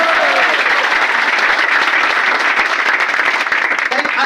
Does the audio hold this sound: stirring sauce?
no